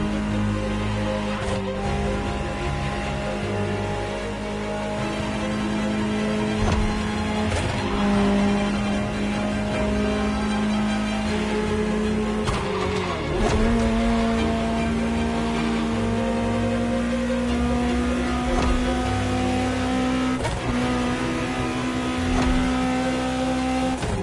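A Ferrari supercar engine in The Crew racing game holds a steady, loud drone throughout, its pitch climbing and shifting through gear changes over a dense mechanical roar with no talking.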